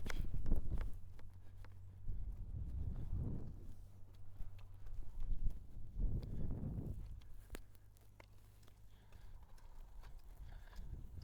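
Horse being ridden during training work on transitions, its hooves clip-clopping steadily in an even walking rhythm, fairly close and clear, with wind in the background.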